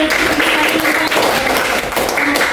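Steady applause from a group, continuous clapping throughout at a fairly loud level, nearby.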